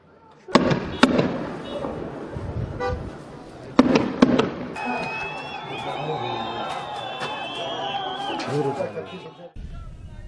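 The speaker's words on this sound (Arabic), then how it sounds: "قمع المسيرتين بإطلاق وابل من قنابل الغاز المسيل للدموع" A volley of tear gas canisters fired at a protest march east of Jerusalem: several loud, sharp bangs in quick clusters, followed by a hissing whoosh and a high whistling tone over crowd noise and voices.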